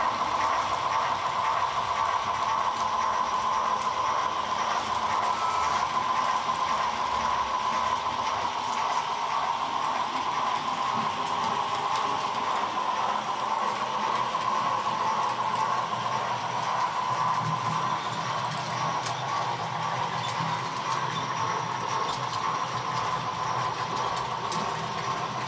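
A Piko H0 scale model train of Polish PKP outline, DCC-controlled, runs steadily around a home layout with a continuous rolling hum and faint rail clicks, close and unbroken.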